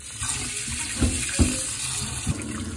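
Running tap water pours over a rockfish being rinsed in a kitchen sink, a steady close gush with a few heavier splashes as the fish moves under the stream, no speech.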